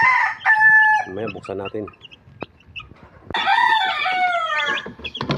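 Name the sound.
chicks and chickens clucking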